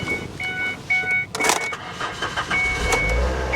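A salvage-auction car jump-started with a portable booster pack: warning chimes ding, a short cranking burst follows, then the engine settles into a low idle rumble nearby.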